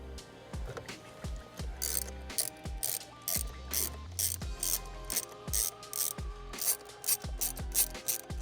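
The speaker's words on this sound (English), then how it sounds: "we're going to take a ratchet extension, a T30 Torx socket, and we're going to loosen the bolts on both sides of the steering wheel" Ratchet with an extension and T30 Torx socket loosening the steering wheel bolts on a Toyota Tacoma, giving rapid close-up clicking pawl bursts in repeated short strokes with brief pauses between them.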